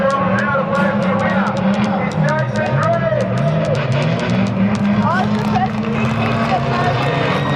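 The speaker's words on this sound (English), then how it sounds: "Look, he's spinning his wheels." A demolition derby car spins its wheels at a speedway during a caravan demolition derby, with loud revving engines and tyre squeals rising and falling under a busy mix of crowd chatter and nearby talk.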